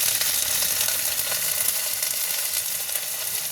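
Ginger paste and cumin powder sizzle in a pan with a steady, bright frying hiss, close and even throughout, with light stirring and no voices.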